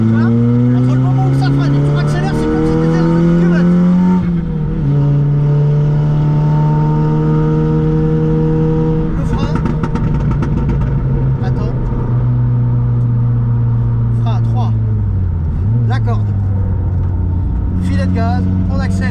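A 336 hp Polo GTI accelerates hard on a race track, its engine climbing loudly through the revs, easing briefly, then pulling up again as it gathers speed, with people talking over the engine.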